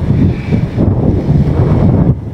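Strong wind on a Philippine mountain buffets the microphone with a loud, continuous rumbling roar that swells and dips throughout.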